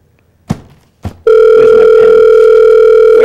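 Loud steady telephone dial tone comes in after two short clicks of a handset being picked up, then holds continuously.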